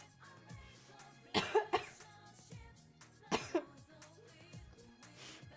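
A person with allergies coughs in two distinct clusters of sharp, close bursts, with a few quieter throat sounds in the quiet gaps between them.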